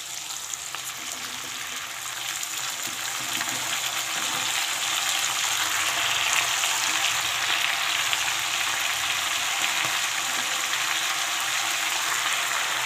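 Leafy lai shak greens fry in a pan with a steady, bright sizzling hiss. The sound builds slightly and then holds evenly throughout, close up and with no one speaking.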